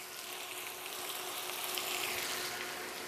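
Scrambled eggs seasoned with salt and pepper sauté in a pan, a faint, even, continuous sizzle with no talking.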